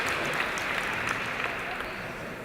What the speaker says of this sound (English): another big applause to Maria Celeste